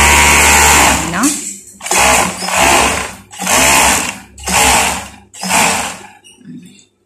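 An overlock sewing machine stitches fabric in five loud, steady whirring runs separated by short pauses, each burst lasting under a second to about a second.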